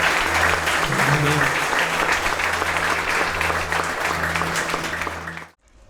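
Congregation applauding in a church service, steady sustained clapping with a low hum beneath and a brief voice, ending abruptly into silence.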